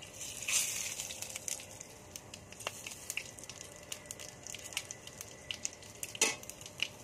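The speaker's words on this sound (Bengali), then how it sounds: "এবার আমি ওই তেলে ফোড়ন দিয়ে দেবো। শুকনো লঙ্কা, দারচিনি, এলাচ, লবঙ্গ আর জিরে আর তেজপাতা।" Whole spices (dried red chili, cinnamon, cardamom, clove, cumin and bay leaf) crackle in hot oil, a close sizzle peppered with sharp pops and the odd scrape of a spoon, with no voices.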